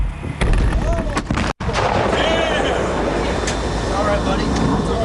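A military demolition blast in a desert war setting with soldiers nearby: a loud, sustained roaring rumble that fills the whole stretch, cuts out briefly, then carries on with faint voices beneath it.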